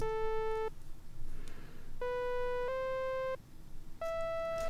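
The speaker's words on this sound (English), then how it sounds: "they're not actually played with the organ, they're played with a little synth. Like a really simple synth too." A very simple synth plays a short melody of clean, pure sustained tones in separate phrases with gaps between, moderately quiet over a soft background hiss.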